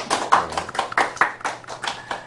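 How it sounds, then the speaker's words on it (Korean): An audience claps for a mentor at a youth mentoring session, a small group of hands making a loose, uneven patter of close claps for a couple of seconds. "멘토님께 다시 한번 박수 부탁드립니다"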